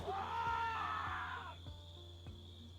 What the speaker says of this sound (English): If we have the meta event spawning zombies from that scream nearby, of course that makes this area much less secure.